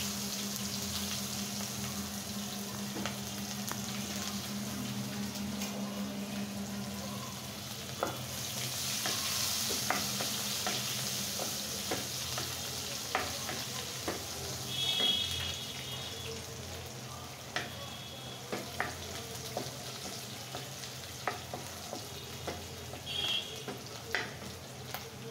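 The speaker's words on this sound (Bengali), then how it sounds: "আমি এখন প্রথমত চুলাতে একটা আস্ত জিরা দিয়ে দিচ্ছি ভালো ফ্লেভারের জন্য, আর 2টা কাঁচা লঙ্কা, আর পেঁয়াজ কুচি আর রসুন কুচি একসাথে দিয়ে দিলাম।" Whole cumin, two green chilies, chopped onion and garlic fry in a pan over a stove, giving a soft, steady sizzle broken by scattered scraping and clicking from stirring, with no voices.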